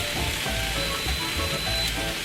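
Ground turkey fries in a pot on a home stove, giving a steady, close sizzle with light crackles throughout and no talking.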